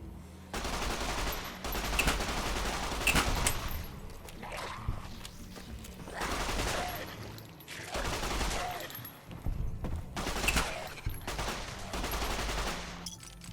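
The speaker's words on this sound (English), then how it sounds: "For hordes of ghouls, an automatic weapon is always your friend." Automatic weapon bursts in the video game Fallout: New Vegas, with repeated volleys of rapid gunfire several seconds apart over a low game background and brief pauses between them.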